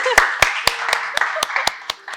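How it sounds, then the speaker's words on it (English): A few people clap at a Happy Science seminar to welcome a speaker, with around nine distinct, evenly spaced claps ringing out in a quiet room under a low hum. "please welcome him with a warm applause"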